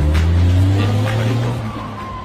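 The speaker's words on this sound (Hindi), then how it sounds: "चलो भैया गाड़ी चलाओ" A car pulls away, engine droning loudly and steadily with a faint tire squeal, then easing slightly as it moves off.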